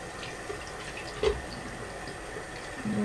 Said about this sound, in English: You just want to rinse your brush off, or your glove off, and just keep doing it until you've got everything clean in there.